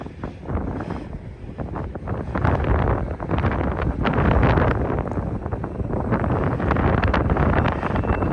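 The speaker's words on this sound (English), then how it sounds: "It's always windy out here, but right in this spot," Strong wind buffets the microphone beside a railway line in cold weather, a steady, loud rush of low roaring noise, gusting slightly stronger partway through, with no voices.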